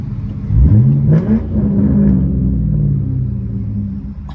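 A Lincoln hot rod with a newly fitted $400 exhaust revs hard, its deep rumble swelling up and then settling into a steady, throaty idle, loud and close with no voices.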